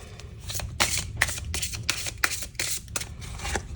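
Tarot cards from a Seasons of the Witch deck being shuffled by hand, a close run of crisp riffling bursts and soft slaps in an uneven rhythm, with no talking.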